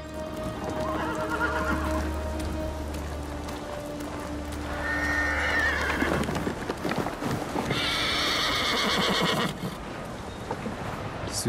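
Horse in the Ghost of Tsushima video game on PS5, neighing and whinnying loudly several times while hooves clip-clop nearby, set against a steady patter of rain.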